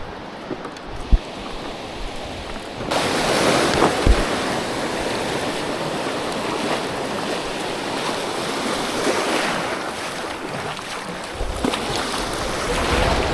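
Wind and surging ocean waves roar around a small boat heading out to fish in strong wind and rough seas, a steady loud rush with buffeting gusts on the microphone and no talking.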